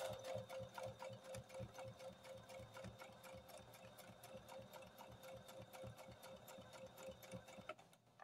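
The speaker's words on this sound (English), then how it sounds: "you're sewing in a nice even line when you go according to whatever mark you're using on your sewing machine for that 1/4 inch mark" Sewing machine stitching layers of quilt fabric for a star sampler quilt top along a quarter-inch mark, running in a steady fast rhythmic whir with a high whine, close and continuous, no talk.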